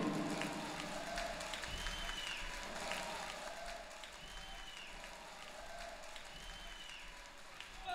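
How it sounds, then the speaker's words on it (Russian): Audience applause at a live rock festival concert by a tribute band, a steady wash of clapping from a crowd with a voice speaking over it. "Ваши аплодисменты громче."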